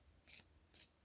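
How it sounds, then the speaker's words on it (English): Two short bursts of tarot card shuffling, crisp riffling sounds about half a second apart, close and fairly quiet with silence around them. "that's why I decided to shuffle on camera"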